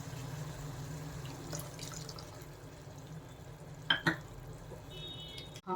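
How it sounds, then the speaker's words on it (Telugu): Tamarind juice poured into a pan of fried chana dal vadiyalu, a soft, faint liquid splash and trickle with a couple of sharper clinks near the end, close and quiet with no talk. "పులుసు పోసేసానండి"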